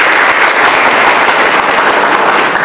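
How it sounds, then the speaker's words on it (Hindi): An audience at a hostel gathering claps in a loud, dense, steady burst of applause that fills the whole moment, close and without talk. "सारे लोग ताली बजाइए"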